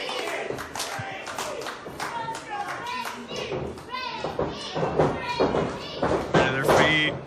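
A wrestling crowd at an event claps and cheers in scattered bursts that build louder toward the end, mixed with thuds and children's voices while people talk over it.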